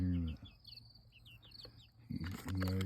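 Plymouth Rock chickens and roosters in an outdoor coop, with clucks and a short rooster call at the start and end, over chirping insects and birds in the background.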